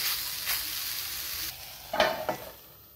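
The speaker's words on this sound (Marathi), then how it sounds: "छान अशी फ्राय झालेली आहे ही भेंडी आपली" Okra frying in ghee in a pan for a crisp bhindi dish, with a steady soft sizzle and a few louder scrapes of a spoon stirring the pan near the end, no talk.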